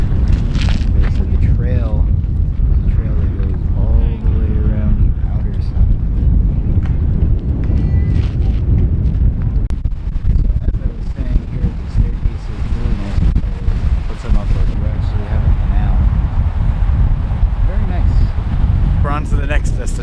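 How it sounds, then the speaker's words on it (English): Wind buffets the microphone beside a lake on Long Island, a constant loud low roar, while people talk over it. "It's a little windy."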